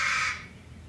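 One loud, harsh caw from a crow outdoors, close by and standing alone, cutting off quickly.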